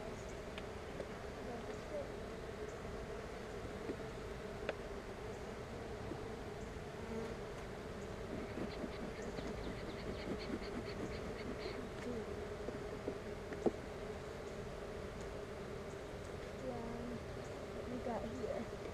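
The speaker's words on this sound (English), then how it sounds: "There's a bee." Bees hum and buzz continuously around an open beehive during a weekly inspection. The drone is steady and close, with occasional individual bees passing nearer, while people talk quietly.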